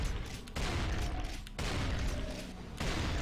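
Heavy bursts of gunfire in Brutal Doom come in three dense, loud volleys, each lasting about a second and separated by brief lulls.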